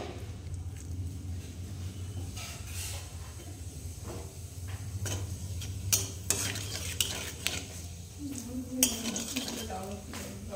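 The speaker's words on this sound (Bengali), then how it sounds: "জিরেটা একটু ভাজা ভাজা হয়ে গেছে" Whole cumin seeds frying in hot oil in a pan, a continuous sizzle with repeated metal spatula scrapes and clinks, close up; a voice speaks briefly near the end.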